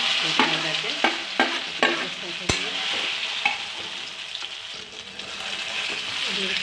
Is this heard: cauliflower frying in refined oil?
yes